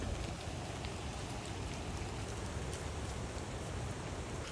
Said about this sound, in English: It feels like it's trying to rain though.